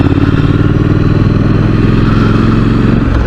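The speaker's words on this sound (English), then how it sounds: "we're heading out today on the 2018 model Triumph" 2018 Triumph Street Scrambler motorcycle riding out, its engine a loud close steady throb with a gritty pulsing beat that holds level throughout.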